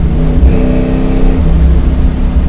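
Supercharged Boss 302 Mustang pulling hard in third gear, a loud, close engine roar that rises in pitch, dips briefly at a shift and climbs again.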